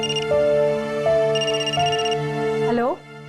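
A phone rings with a repeating, melodic electronic tone during a call, loud and close, then cuts off with a short pitch glide.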